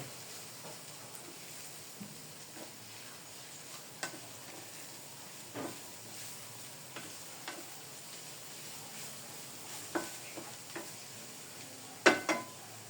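Pork being stirred with santol and bagoong in a pan, faint sizzling under scattered scraping and clinking taps, a louder scrape near the end, no talk.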